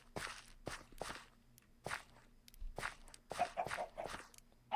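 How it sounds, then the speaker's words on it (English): Farm animals such as cows walking in Minecraft, a series of soft, crunchy footsteps in an irregular rhythm, fairly quiet and close, with a few small clicks near the end. "I like the sound of their footsteps"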